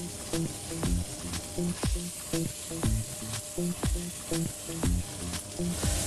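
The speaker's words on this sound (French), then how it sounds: "Le but, c'est de la colorer sur chaque face sans la brusquer, parce que la viande est quand même tendre" A tender veal chop sears in a hot pan, giving a continuous close sizzle broken by regular clanks and thumps of the pan or utensil in a steady rhythm.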